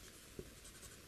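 Pencil writing on paper during a rational functions lesson, a faint steady scratching with one slightly louder stroke partway through, close up and quiet, with no talking.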